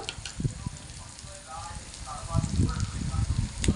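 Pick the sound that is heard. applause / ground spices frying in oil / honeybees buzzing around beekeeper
ground spices frying in oil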